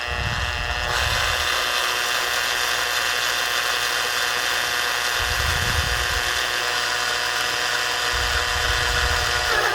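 A power drill bores through a wall during a CB radio installation for a Suzuki DR200 motorcycle, a loud steady high-pitched whine with a grinding rumble that swells and eases in pulses as the bit bites.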